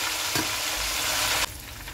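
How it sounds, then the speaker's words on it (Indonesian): Food frying in heated oil crackles and sizzles steadily and close up, with a brief spatter burst early on and a quieter hiss after a sudden drop. "Panaskan minyak, kemudian kita goreng ya."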